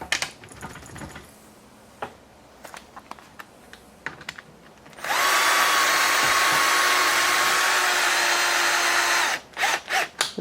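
A power drill drives screws back into rear toe blocks on a Losi 5ive RC car, with a loud steady whine of about four seconds between scattered clicks and handling noises.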